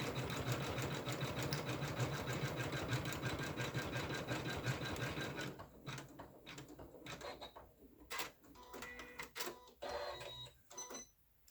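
Single-needle embroidery machine stitching a quilted mug rug, a steady rapid mechanical whir for several seconds that then breaks into intermittent clicks and short bursts as it pauses and repositions.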